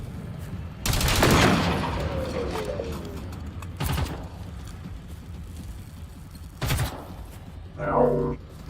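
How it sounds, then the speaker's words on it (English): Gunfire in the Generation Zero video game, a rapid burst of shots followed by two shorter bursts, loud and close amid game ambience, with someone talking between them. "Now, I'm shooting at them."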